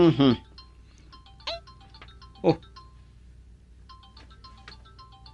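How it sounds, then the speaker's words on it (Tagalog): A mobile phone ringtone plays as a faint, repeating pattern of thin electronic tones in the background, while a voice makes brief exclamations. "Cellphone ng riringa."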